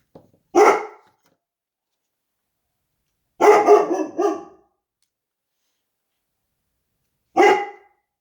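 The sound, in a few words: dog barking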